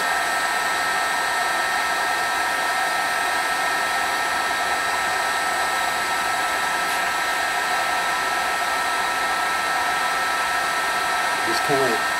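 A torch heats a copper-to-aluminum joint for brazing with filler metal, giving a steady, fairly quiet rushing roar that holds unchanged throughout with only a faint tick near the end.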